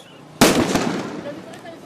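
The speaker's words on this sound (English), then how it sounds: "The police responded by firing live rounds," A single loud, sharp blast from police firing live rounds at protesters in Kenya, followed by a rumbling, echoing tail and a fainter second pop.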